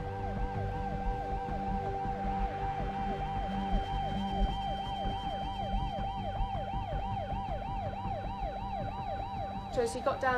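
A wailing ambulance siren at a desert ultramarathon cycles steadily up and down, loud and close, with traffic rumble underneath and a brief second siren tone near the end.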